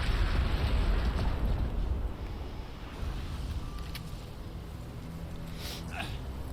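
An explosion in the Spider-Man Remastered video game bursts loudly at the start, then settles into a sustained low rumble that fades slightly but carries on to the end.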